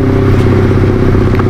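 A Honda CB150R motorcycle on a test ride gives a loud, close engine drone with a rough, clattery texture, holding steady through a brief burst.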